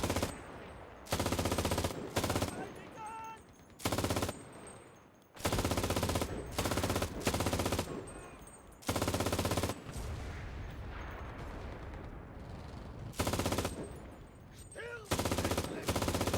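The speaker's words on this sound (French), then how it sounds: "Rafale courte mais précise." Short, sharp machine gun bursts from the Normandy battlefield of the video game Enlisted, several loud repeated volleys separated by brief pauses, with faint battle noise between them.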